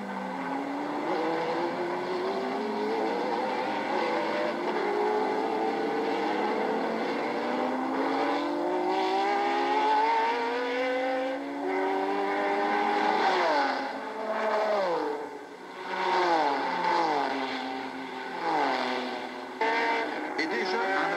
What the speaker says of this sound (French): Premier tour, la Porsche du Just Racing pilotée par Ludwig a fait le trou. Derrière on s'accroche, les Jaguars de Warwick et Heyer,